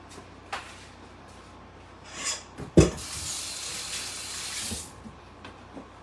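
Tap water runs briefly into a kitchen sink, a short gushing splash lasting a couple of seconds among faint handling clatter, with no talking.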